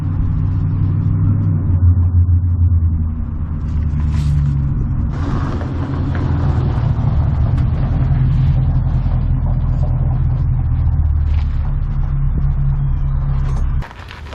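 A 1987 Chevy small-block 350 TBI engine, started for the first time in 20 years, runs loud and close with a deep, steady rumble and slight rises in revs, then cuts off near the end.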